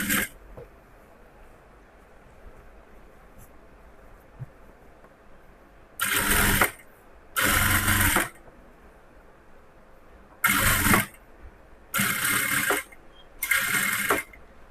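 A sewing machine stitches the neckline of a cross-cut blouse in five short bursts of rapid whirring, each a second or so long, separated by quiet pauses while the fabric is repositioned.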